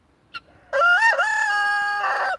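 A rooster crows once loudly and close by, a long drawn-out call after a brief faint cluck.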